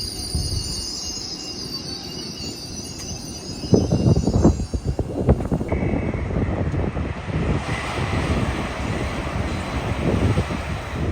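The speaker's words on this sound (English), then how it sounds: "There goes 801 112 with an LNER service from Newcastle to London King's Cross" An LNER Class 801 train passes through Peterborough station on the East Coast Main Line, a rushing, rumbling pass with wheel squeal and wind buffeting the microphone, growing louder midway and staying close.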